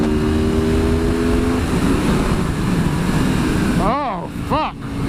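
Aprilia Tuono V4 1100 motorcycle accelerating hard, wheels up: a loud, continuous engine roar with rapid rising and falling pitch sweeps near the end as it revs through gears close by.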